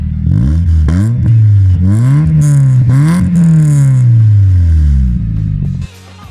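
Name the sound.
Mazda MX5 engine revving through side exit exhaust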